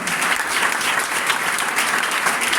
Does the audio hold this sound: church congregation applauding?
yes